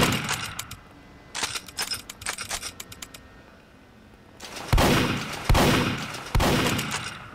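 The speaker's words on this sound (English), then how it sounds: "Man, just trying to shoot Bri." Gunfire in a Backrooms horror video game: a run of rapid clicky bursts early on, then three loud, sharp shots spaced about a second apart near the end, with no talking.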